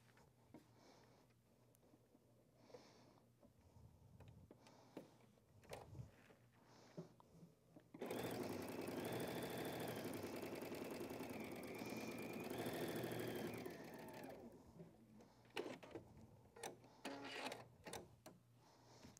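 A sewing machine stitching strips of fabric in one sustained, fairly quiet run of about six seconds, set between softer handling clicks and shuffling.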